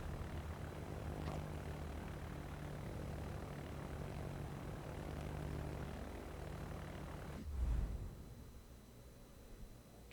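Propeller aircraft engines drone steadily from fighter and torpedo bomber planes in the World of Warships naval battle game, a continuous low hum with a brief louder whoosh near the end.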